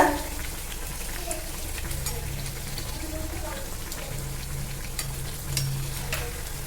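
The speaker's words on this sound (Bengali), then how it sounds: "কচুরি কিন্তু ভাজতে বেশি সময় লাগে না" Hing kachori frying in hot oil gives a steady, close, crackling sizzle with occasional bubbling pops that runs throughout without a break, with a voice faintly present at times.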